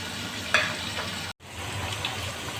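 Potatoes fry in hot oil for degi-style aloo biryani, giving a steady, close sizzle with a few sharper pops and a brief dropout partway through.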